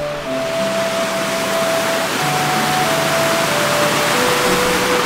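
A waterfall pours steadily as a broad, constant rush of water, loud and close, with faint tonal hums running through it and no talk.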